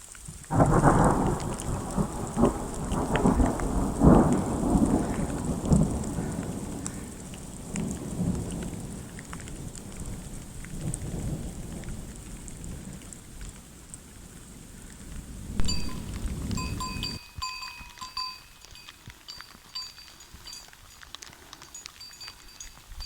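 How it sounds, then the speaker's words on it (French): Rain and thunder echo through mountain valleys along the GR10 hiking trail: heavy steady rain on surfaces with deep rolling thunder rumbles. Late on, the rain thins and faint metallic clinks ring out. "il pleut et il y a du bruit qui résonne dans toutes les vallées"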